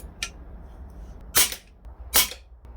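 Air rifle shots fired through a sniper scope: a faint early pop, then two sharp, loud cracks about a second apart.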